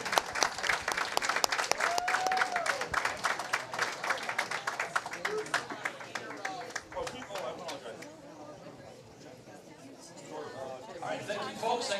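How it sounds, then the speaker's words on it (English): Applause at a regional bowling tournament for the champion: clapping close and dense at first, then thinning as people chatter in the background, with a brief rise of clapping again near the end. "Round of applause, please, for the champion."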